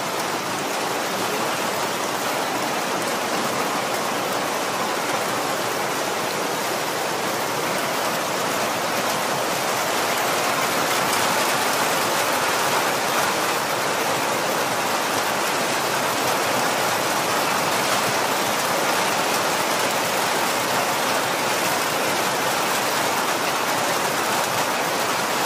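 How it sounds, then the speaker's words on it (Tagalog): Heavy downpour during a low-pressure storm, a dense, constant roar of rain lasting throughout, loud and close with no breaks. "kaya sobrang lakas ng ulan"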